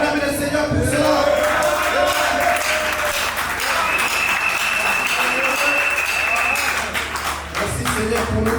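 A church congregation at a Sunday meeting applauds and cheers in acclaim of the Lord, a loud, steady wash of clapping and crowd voices that dips briefly near the end.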